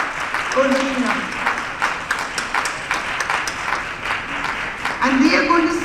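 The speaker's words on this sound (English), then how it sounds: "Loud round of applause for the pretty gorgeous Urvashi Warman" Audience applause at a school panel discussion on culture and diversity through story books, a steady round of clapping filling the room, with a voice and brief cheers rising over it near the end.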